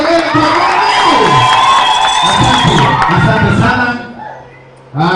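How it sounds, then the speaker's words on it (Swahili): A church congregation at a Sunday gospel service cheers, whoops and shouts joyfully in a loud, close burst of crowd noise that fades near the end, with someone speaking briefly. "Shangwe na kelele kwa Mungu."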